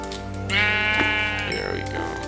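A Minecraft sheep lets out a couple of loud, wavering bleats up close, each drawn-out and nasal, with a short break between them.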